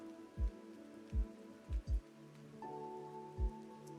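Rain patters steadily in the donut-factory video game Freshly Frosted, a soft, faint hiss under gentle looping music with several low thumping notes.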